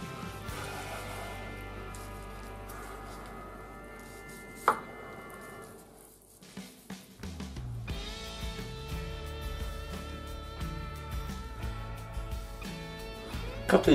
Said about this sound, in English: Trim off a little bit of the fats.